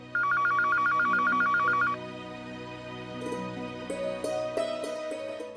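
An old-style telephone bell rings in a fast repeating double pattern for about two seconds, then stops, followed by faint clicks and a low musical tone in the background.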